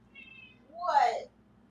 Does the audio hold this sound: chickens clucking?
no